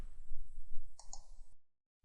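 A computer mouse clicks twice in quick succession inside MATLAB, crisp and close, over a low background hum that then cuts to silence.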